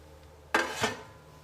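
Chopped tomatoes dropped into a thick cooking pot while making rasam: two quick, fairly close clattering knocks about a third of a second apart against a quiet background.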